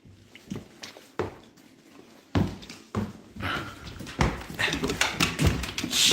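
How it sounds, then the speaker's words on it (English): A very large dog whimpers and whines indoors among footsteps and shuffling, the soft cries rising and falling while people talk nearby. "Look at the size of this dog."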